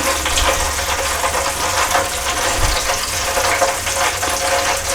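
Battered onion rings frying in a pan of hot oil, a loud, steady hiss and bubbling crackle that carries on without a break, with no voices.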